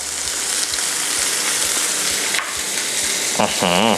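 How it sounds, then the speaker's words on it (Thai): Unsalted butter sizzles on a hot waffle iron holding a chicken-and-cheese waffle, a steady dense crackle throughout, with a brief lower voiced sound near the end. "ลงเนยลงไปครับ เพื่อเพิ่มกลิ่นหอมนะครับ"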